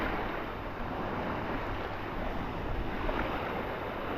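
A basket is rinsed in shallow sea water in the Florida Keys, giving a constant close wash of water and surf-like noise with some wind buffeting, no voices.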